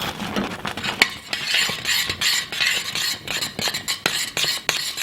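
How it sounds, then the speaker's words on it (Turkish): Butter stirred into hot bulamaç pudding in a pot until it melts: a continuous close scraping and stirring, with repeated sharp clicks of the utensil against the pot. "İçine koyuyoruz ve eriyene kadar karıştırıyoruz"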